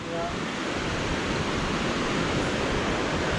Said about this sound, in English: That's what you're hearing right now is the fish ladder.